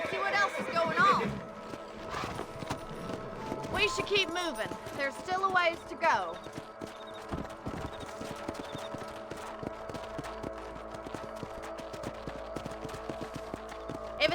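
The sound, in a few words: horses clip-clopping in video game Red Dead Redemption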